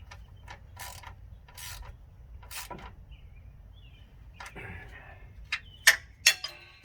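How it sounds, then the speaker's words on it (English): A ratchet snugs down a bolt on the front hub bearing of a 1998 GMC K1500 truck. It gives a few close, sharp clicking strokes with pauses between them, and then several louder metallic clanks near the end. "we'll snug this bolt down."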